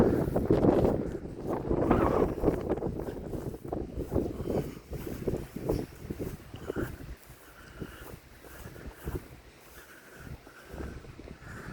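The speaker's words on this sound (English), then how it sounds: "Man, it's windy." Strong gusty wind buffets the microphone throughout near the Missouri River in Hermann, Missouri, loud at first and easing somewhat toward the end, with no talking.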